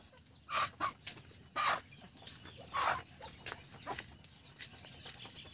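Peking ducks, including newly hatched young, give several short faint quacking calls in a quiet farmyard, scattered bursts over a soft background.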